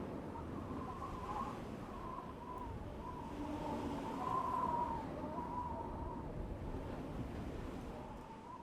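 Wind ambience from the world map of the original Celeste video game: a soft, continuous breathy rush with faint tonal whistles drifting in and out, low and steady.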